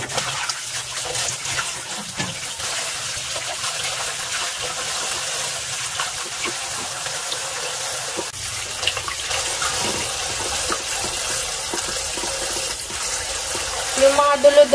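Cold tap water runs steadily into a sink while radishes for kimchi are washed under it. The gushing is continuous and close, with occasional splashes near the end and a voice talking at times.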